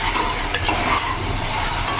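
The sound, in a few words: fried potatoes added to sizzling masala and stirred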